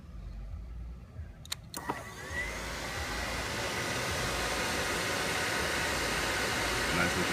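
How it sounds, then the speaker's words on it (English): A 2015 Yamaha R1 with a Graves full exhaust: a couple of sharp clicks, then the engine starts and settles into a steady, rising rumble that holds at a fairly low level. "I'm gonna crank it up"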